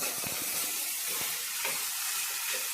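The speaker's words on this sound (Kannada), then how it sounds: "ಈಗ ಬ್ರೊಕೋಲಿ ಹಾಕಿ ಒಂದು ಮೂರು ನಿಮಿಷ ಫ್ರೈ ಮಾಡ್ಕೊಂಡಿದ್ದೀನಿ" Broccoli and small chopped tomatoes frying in a pan give a steady, close sizzle and hiss, with a few soft stirring knocks near the start.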